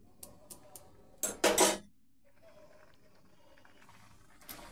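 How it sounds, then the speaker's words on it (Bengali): Boiling dal being stirred and mashed in a metal pot: a few light clinks, then a quick burst of loud scraping and knocking, followed by a quiet bubbling simmer and one last clink. "ডালটা যতক্ষণ জল না শুকাবে ততক্ষণ ঘুঁটে নেব।"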